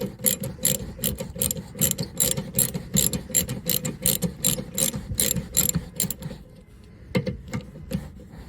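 Rapid clicking of a ratchet wrench backing out a recessed 10 mm bolt while fitting a trailer hitch receiver to a VW ID. Buzz, steady bursts of ratcheting for about six seconds, then a pause and a few last clicks.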